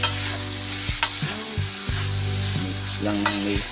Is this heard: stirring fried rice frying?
yes